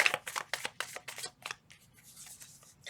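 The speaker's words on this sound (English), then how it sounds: "Two more shuffles." Quick, close riffling of tarot cards in a rapid series of papery flicks, slowing and fading toward the end.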